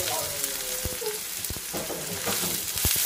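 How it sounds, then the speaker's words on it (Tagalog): Garlic and onion sauté in a hot pan for a pansit guisado, a soft continuous sizzle with scattered crackles and a few stirring clicks, fairly quiet. "Ayan, atin munang lutuin ang ating sibuyas bawang."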